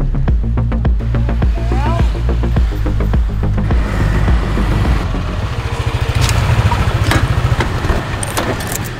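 A Yamaha NMAX motor scooter engine running close by, starting with a rough, jangling burst and then settling into a loud, steady rhythmic idle pulse with occasional metallic clinks.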